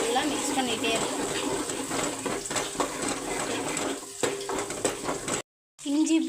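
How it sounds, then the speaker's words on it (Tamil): Sautéing in a pan for chicken gravy: continuous sizzling with frequent scraping stirs of a spoon against the pan, close and busy, broken by a brief silent gap near the end. "இது நல்லா பொன்னிறமாக வதங்குற அளவு வர வரையும் நல்லா மிக்ஸ் பண்ணிகிட்டே இருக்கும்."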